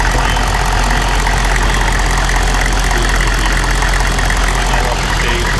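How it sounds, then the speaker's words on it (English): A 1994 Chevrolet Silverado 4x4 pickup engine runs loud and close with a dense, steady rumble, holding a constant idle with little rise or fall throughout. "Go ahead and rev it up a little bit."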